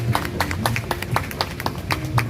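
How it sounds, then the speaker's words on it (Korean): Crowd applause at a South Korean government award ceremony, a steady patter of many hands clapping at moderate volume for a couple of seconds with no voices over it. "다시 한번 차관님께 큰 박수 부탁드리겠습니다"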